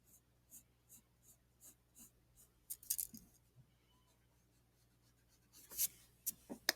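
A pencil scratches across paper in short regular strokes, then a quieter pause and a flurry of quicker, sharper marks, close and soft with faint breathing.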